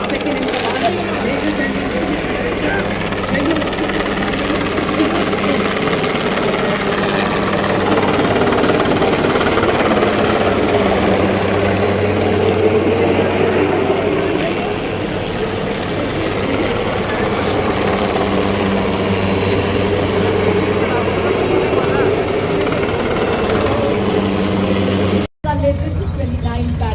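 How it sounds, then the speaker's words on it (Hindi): An army helicopter flies over the Army Day parade in Jaipur, its loud, continuous rotor and engine roar filling the whole stretch while a commentator talks over it. "हेलीकॉप्टर शान के साथ मंच की तरफ बढ़ते हुए"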